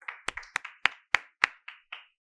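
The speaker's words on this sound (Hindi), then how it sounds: "आप सबकी जोरदार तालियों के बीच आमंत्रित हैं" A single pair of hands claps about nine times at an Independence Day youth speaking event, crisp isolated claps in a slow, slightly uneven rhythm, close and clear with no crowd or talk.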